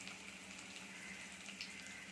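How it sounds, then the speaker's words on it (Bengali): Food sizzles with onions in a frying pan, a steady, low crackling hiss throughout, faint and continuous with no voices. "এই পেঁয়াজের সাথেই এটা ভেজে নিলাম"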